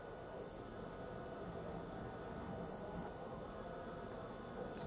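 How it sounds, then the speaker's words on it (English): Telephone bell ringing in a 1974 slasher film scene, with repeated rings over a steady hum of background noise and no speech. "Phone starts ringing again."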